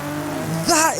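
A car launching with launch control in Forza Horizon 5: the engine holds a steady rev, then rises sharply as the car takes off, with a hiss of tire noise. A voice talks over it.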